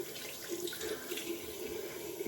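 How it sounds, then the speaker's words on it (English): Tap water running steadily into a bathroom sink while it warms up, a continuous close splashing stream with no voices. "I'm just gonna let the water heat up"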